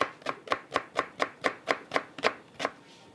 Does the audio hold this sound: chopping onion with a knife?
yes